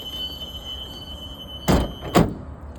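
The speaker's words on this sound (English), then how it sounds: "Door locks into place." School bus emergency door latching shut during a pre-trip inspection: two sharp metallic clunks about half a second apart, fairly close, over a low steady background hum.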